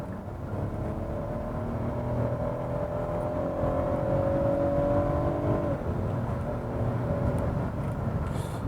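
A Kia K7 3.3 GDI engine revs up steadily, its pitch climbing for several seconds before dropping as the gear shifts, with continuous road and wind noise throughout.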